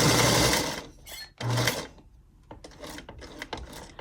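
Domestic sewing machine stitching patchwork, with two loud bursts of fast needle chatter at the start and around 1.5 seconds. Shorter, quieter runs of back stitching follow, broken by brief pauses.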